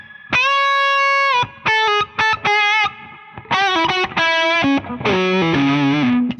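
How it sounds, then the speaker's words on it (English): A PRS Charcoal Phoenix Limited Edition electric guitar on its treble pickup, played through an amplifier's distortion channel, plays loud, sustained overdriven notes and chords in short phrases separated by brief silences. "if I use the distortion channel, you get the same effect."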